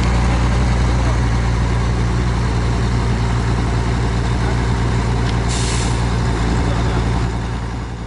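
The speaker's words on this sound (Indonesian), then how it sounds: "Ah, suara mesinnya dengar." A bus engine runs loudly with its exhaust pipe missing, a steady low droning rumble with harsh noise filling the cab, continuous throughout and fading slightly at the end.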